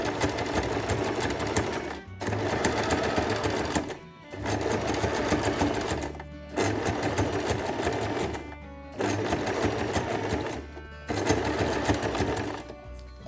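A sewing machine stitches a zigzag pattern of gold thread along an ornamental motif, running in loud, rapid bursts of about two seconds, each separated by short pauses as the fabric is turned.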